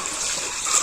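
A forest stream near Dandeli runs on its way toward the Kali river, giving a steady close rush of flowing water with bright splashy texture throughout and no voices.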